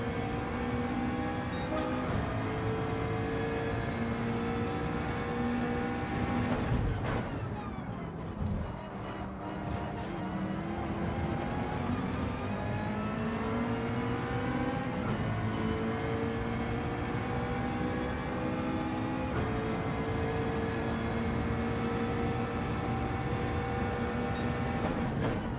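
Peugeot RCZ racing car engine in Gran Turismo 7, a steady droning hum with rising and falling pitch through gear changes, sustained and fairly quiet throughout.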